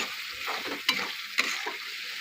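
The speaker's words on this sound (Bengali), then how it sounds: "মশলা আমার কষে এসছে প্রায়" Spice paste seasoned with cumin powder is stir-fried in a pan for a jackfruit and prawn dish, giving a continuous close sizzle broken by two sharp scraping strokes of the spatula.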